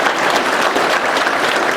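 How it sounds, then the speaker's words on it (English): An audience at an inaugural convocation claps in a thick, even round of applause, many hands blending into a continuous wash with no voices standing out. "So please give them a round of applause"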